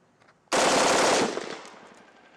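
An M4 rifle fires from the prone position in a single loud, sharp burst that rings out and decays over about a second, heard close with no talking.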